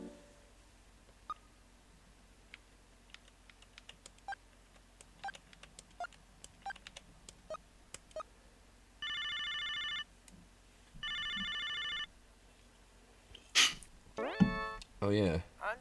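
Video phone in the game Snatcher on PlayStation: scattered faint button beeps, then two long electronic ringing bursts, followed by a short loud tonal chime sequence, with quiet background tones underneath.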